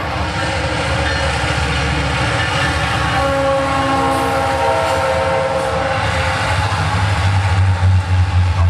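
South Shore Line commuter train passing close by outside, a steady loud rumble of wheels on rails with a sustained horn blast near the end.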